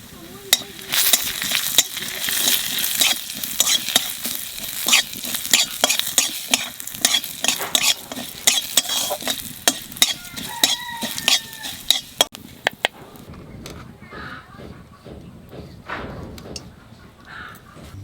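Cumin seeds hit hot oil for a fish curry with papaya, giving a steady close sizzle with frequent clicks and stirring scrapes; the frying fades to a quieter crackle near the end, with no talking.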